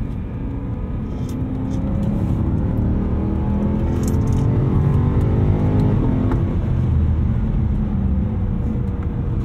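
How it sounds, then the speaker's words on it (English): A 2010 BMW E92 M3's stock exhaust rumbles steadily and then rises as the engine is revved, a deep, loud drone heard up close. "This is the stock exhaust."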